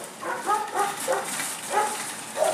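Dogs bark and yip in quick bursts at a shelter's dog runs, close and clear. About half a dozen sharp, high barks come in an uneven rhythm.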